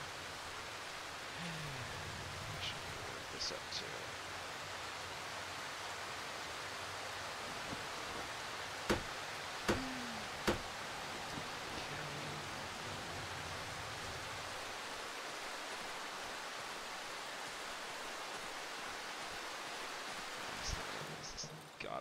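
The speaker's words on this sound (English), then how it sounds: "Great! It's raining." Steady rain hiss from the game Darkwood fills the scene, broad and continuous, with a few sharp clicks and a voice speaking briefly over it.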